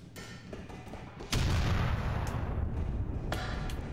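Grenade blasts in Grand Theft Auto IV: a sudden heavy boom lands partway through, followed by sustained rumbling, crackling explosion noise and a couple of further sharp bursts, loud and close.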